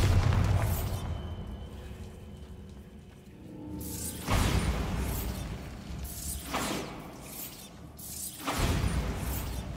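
Bombarda blasting spells in a Harry Potter video game go off as a series of booming explosions with shattering debris and whooshes, three heavy bursts spaced a couple of seconds apart after a quieter lead-in.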